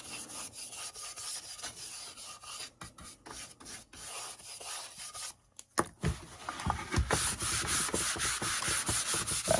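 Cloth rubbing stain onto a wooden primitive sheep craft, a steady close rasping scrub in repeated strokes, growing busier and louder toward the end.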